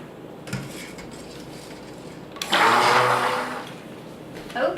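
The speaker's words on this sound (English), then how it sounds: "let's stick blend some more" Stick blender whirring through a batch of toasted coconut and almond soap, a steady mid-loud buzzing burst of a couple of seconds amid faint clinking, with no talk.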